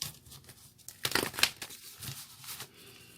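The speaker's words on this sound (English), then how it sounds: "One more shuffle, they say." Tarot cards are shuffled by hand, giving a brief burst of papery riffling and crinkling in the middle, with softer handling sounds before and after and no talk.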